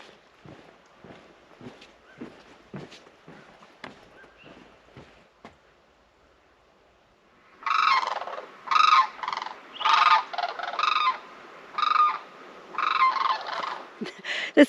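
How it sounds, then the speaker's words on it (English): Flock of cranes passing overhead in a quiet mountain setting, scattered soft clicks and rustles first, then a run of loud, repeated trumpeting calls in bursts carrying from above, with no talking. "It's just a whole flock of cranes going overhead."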